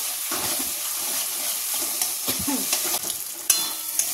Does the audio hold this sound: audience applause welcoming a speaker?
no